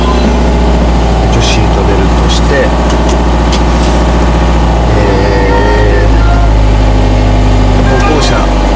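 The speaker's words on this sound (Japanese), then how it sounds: "エンジンまずスタートして" The engine of a Subaru Impreza runs with a steady, loud idle, a constant low hum heard from inside the car. People talk over it throughout.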